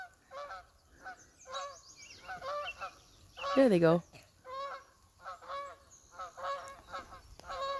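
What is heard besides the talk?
geese honking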